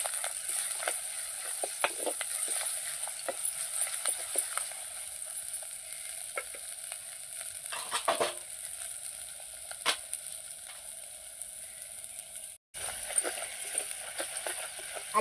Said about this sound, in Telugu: 1 చెంచా మంచిగా గోలాలి అల్లం వెల్లిపాయ కూడా